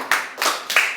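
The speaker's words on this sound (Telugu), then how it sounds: "కొట్టొకసారి చప్పట్లు గట్టిగా" An audience at a church sermon claps hands loudly together in a quick, even rhythm, four sharp group claps close by with no other sound.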